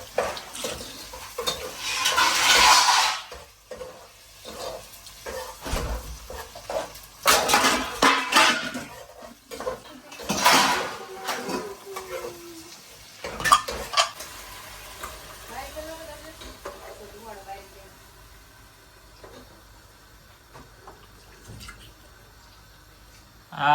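Tomatoes cook down into a puree in a pan on a low flame, with intermittent scraping and clattering strokes of stirring, soft sizzling, and quieter gaps between the bursts.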